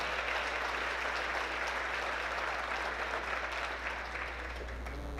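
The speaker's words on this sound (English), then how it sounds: "Round of applause for Mr. Vianello." A school awards ceremony audience applauds the district superintendent, steady, dense clapping that holds evenly for several seconds over a low constant hum.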